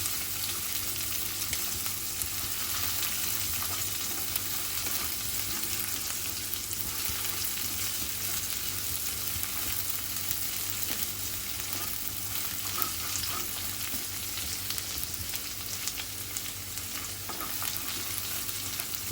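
Onion fries in a pan until transparent, a dense, even crackle of hot oil that runs continuously for the whole stretch, close and steady with no voices.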